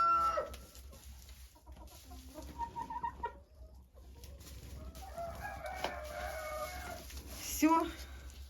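Hens clucking in a henhouse where they are building a nest, several birds cackling and calling at moderate distance with a brief louder squawk near the end, over steady low background hum.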